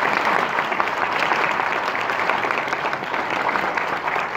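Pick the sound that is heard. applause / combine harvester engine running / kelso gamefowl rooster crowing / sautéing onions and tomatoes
applause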